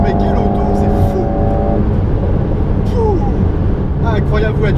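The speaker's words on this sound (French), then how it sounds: "Vous entendez les pop pop pop de l'échappement." A 300 hp Alpine A110 GT in sport mode, its engine droning up close inside the cabin, then easing off with sharp exhaust pops and crackles as someone talks over it.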